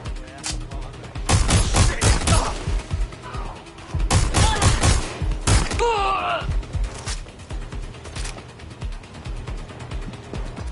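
Video game gunfire in a military shooter, bursts of loud rapid shots and impacts in several volleys with radio-style voices talking between and over the firing.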